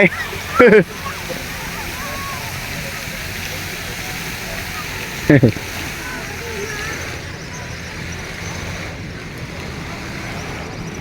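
A waterfall near Vientiane, Laos, gives off a steady, close rushing roar throughout, while two brief voice bursts break in over it.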